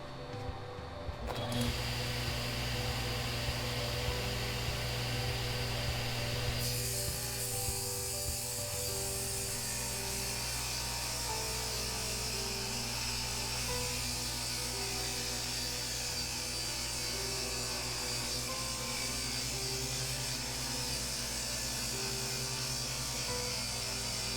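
A power saw rips a sheet of plywood down its center, a steady, loud whine and grinding cut that starts abruptly and holds continuously for over twenty seconds, with no talk over it.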